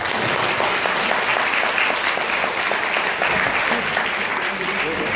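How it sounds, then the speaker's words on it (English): A gathering of devotees breaks into loud, sustained applause, a dense continuous patter of many hands clapping at close range, with voices audible beneath it. "Loud applause."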